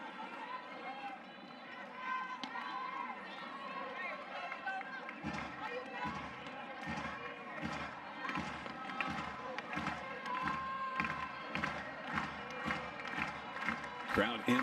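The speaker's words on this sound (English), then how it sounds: "Crowd into it early." Crowd at an Oklahoma vs Iowa State college softball game, cheering and clapping in rhythmic bursts that build in the second half, heard at a distance beneath steady commentary.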